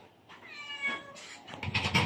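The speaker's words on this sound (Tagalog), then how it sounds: "Nagugutom na yung mga pusa. Oh, ang daming pusa." Hungry cats meow up close, one drawn-out tonal meow followed by overlapping cries from several more, growing louder toward the end.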